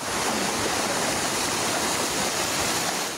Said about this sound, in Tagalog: rumagasa ang kulay tsokolating baha na may tangay na sandamakmak na kahoy at sanga ng puno